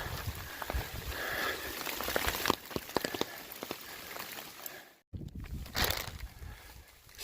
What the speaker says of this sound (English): Still raining, but a little nicer.